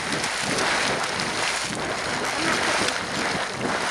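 Yellowstone geyser in the Upper Geyser Basin erupting, a steady broadband rush of splashing, spraying water up close, continuous and fairly loud throughout with no talking.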